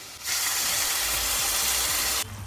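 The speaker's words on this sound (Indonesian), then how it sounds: "kita kasih air panas" Hot water poured into peanut sauce in a hot pan for nasi lengko, a sudden loud hiss and steamy sizzle that bursts in and holds steady for about two seconds before cutting off, with no talk.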